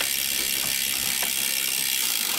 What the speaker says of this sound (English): try shifting the shifter up. It shifts up, shift down, shifts up, shifts down.